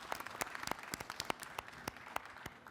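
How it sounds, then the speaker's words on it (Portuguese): Conference audience applauding quietly, a sparse, faint spatter of individual claps with distinct sharp hits scattered irregularly rather than a dense roar. "Já conseguindo arrancar o primeiro aplauso."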